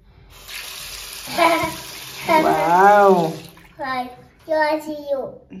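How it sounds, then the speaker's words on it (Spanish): Water runs from a kitchen tap in a steady hissing stream for a few seconds, while a child and an adult talk nearby and the flow continues softly beneath their voices. "ahí cae el agua, mira"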